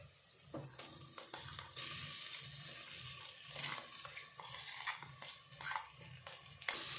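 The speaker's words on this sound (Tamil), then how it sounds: "இப்போ நாம் மாங்காவை இதை சேர்த்துக்கலாம்" Raw green mango pieces sauté in a pan for mango rice, with an ongoing sizzle and repeated scraping and stirring of a utensil against the pan, close and fairly quiet.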